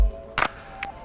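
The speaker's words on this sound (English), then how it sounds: "occasionally end the phrase with like a bigger reverberated clap" A layered clap sample with reverb in a minimal lo-fi beat made in Logic Pro X, struck once clearly and followed by a softer second hit over a held synth tone.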